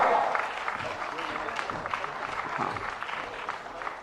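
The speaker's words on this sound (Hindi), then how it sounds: "आप सब जोरदार तालियों के साथ स्वागत कीजिएगा" Audience applause in welcome at a religious gathering, a steady, moderately loud clapping that continues throughout with some voices mixed in.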